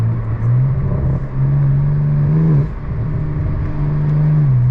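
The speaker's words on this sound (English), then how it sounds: "It's burbling a lot louder than normal." A BMW G82 M4 engine running lean idles with a low, uneven burble, louder than normal, rumbling steadily with small surges and dips in pitch, close up and without talk.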